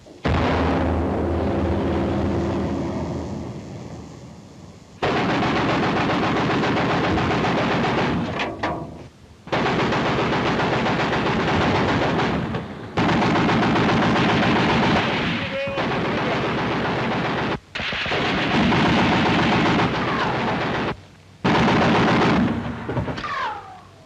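A wartime battle scene: heavy gunfire and artillery boom in long, loud, dense barrages that cut off abruptly several times, with brief gaps between the bursts.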